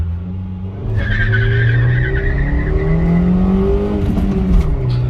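A 2009 Honda City i-VTEC petrol manual launches hard, its engine revving high while the front tires squeal in sustained wheelspin, loud and close throughout.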